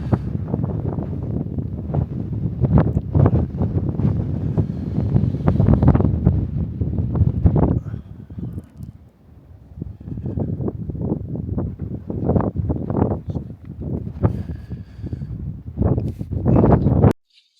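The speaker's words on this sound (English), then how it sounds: "It's really windy here." Strong wind buffets the microphone beside a reservoir in the North Pennines, Teesdale, a loud, continuous roar with gusty surges that drops briefly before rising again.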